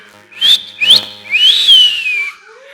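A woman whistles loudly at an audience: two short rising wolf-whistle chirps followed by a longer arching whistle, close and clear against a quiet room.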